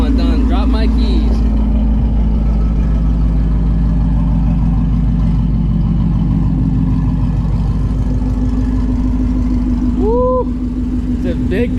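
Shelby GT350 with catless long tube headers in track mode, its engine droning loud and steady from close inside the car for the whole stretch, with a brief rising whine near the end.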